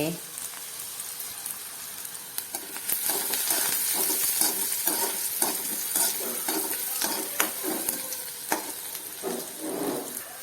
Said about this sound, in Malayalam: ഇതിലേക്ക് ഉള്ളി ഇടാം കേട്ടോ അപ്പം നമ്മളെ ഉള്ളി മൂത്ത് വരട്ടെ